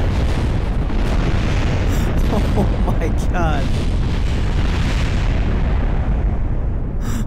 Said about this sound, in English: I've never seen an explosion that big before.